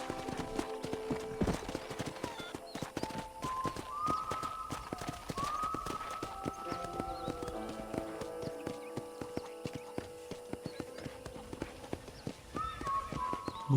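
Horse hooves clip-clop at a steady riding gait across a ranch in the video game Red Dead Redemption on Nintendo Switch, a crisp rhythmic patter under sustained musical tones and a brief whinny.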